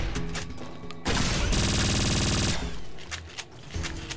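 Gunfire rips out in modded Fallout New Vegas at Area 51, a dense, loud burst of rapid automatic shots lasting about a second and a half, framed by quieter game ambience and no talking.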